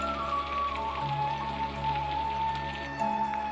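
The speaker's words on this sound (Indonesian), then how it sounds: "sekarang hujan pun turun dengan sangat deras, dengan sangat lebat" Heavy, dense rain falls steadily over a village in Cianjur, a constant close wash of drops tapping on surfaces with a low rumble and faint tonal hum running beneath it.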